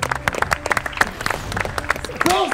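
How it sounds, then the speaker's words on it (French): Studio audience clapping and cheering for rappers on a rap quiz show, uneven bursts of claps mixed with crowd noise and voices, ending with a rising whoop or musical sting. "et dans Rap-jeu, on applaudit"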